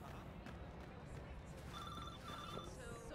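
A phone rings in the Watch Dogs 2 video game: a short electronic trill repeats twice midway, fairly faint beneath a steady bed of game background noise.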